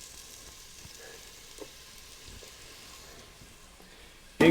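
Chopped onions go into a hot pan for a sausage and vegetable chowder, producing a faint, steady sizzle with small crackles, then a sudden loud clatter at the very end.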